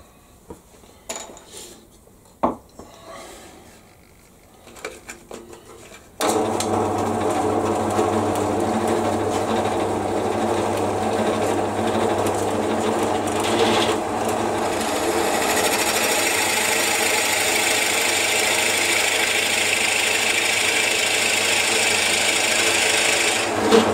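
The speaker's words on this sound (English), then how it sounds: "I'm just going to make a little indentation here that is going to enable me to hold this on the chuck on the lathe." A wood lathe runs steadily while a tool cuts a small indentation into a wooden pen carousel piece, a loud continuous whirring and scraping that kicks in after a few quiet seconds of handling noises and then holds close and even.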